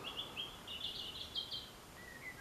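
Small birds at a cottage garden where they are fed, giving faint high chirps and short twittering phrases over quiet outdoor background noise, somewhat distant and with no talking.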